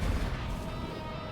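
Boss cannon bombs exploding in the video game Death's Door, a dense rumbling barrage of booms with heavy low-end that fills the short moment continuously.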